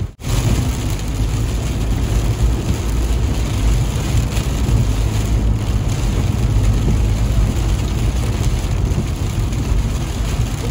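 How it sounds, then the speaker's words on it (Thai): Heavy rain pours down steadily and loudly on a lonely rural road near Chiang Khan in Loei province, a dense unbroken roar with no voices. "ฝนตกมาขนาดนี้"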